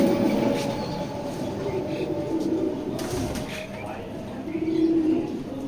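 Pigeons at a seller's coo softly in low, rolling bursts, with a busy, noisy background and a rumbling hum underneath.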